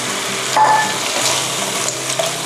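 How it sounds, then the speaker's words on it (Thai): Spaghetti goes into a hot frying pan with clams and roasted chili paste, giving a loud, steady sizzle with faint stirring scrapes and no voices. "เราก็จะใส่เส้นสปาเกตตี้ลงไปค่ะ"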